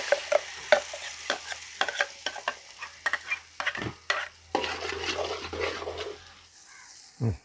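Ground masala paste from the mixer fries in a pan while a spoon stirs and scrapes it, making a steady soft sizzle with repeated sharp clinks and taps, close and fairly quiet, with no talk.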